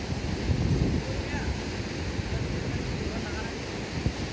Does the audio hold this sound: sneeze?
no